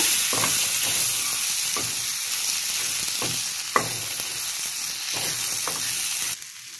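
Masala of chilli, turmeric and coriander powders sizzles in a hot pan under a constant frying hiss, with several short scraping stirs of a spoon, close and clear, with no talking.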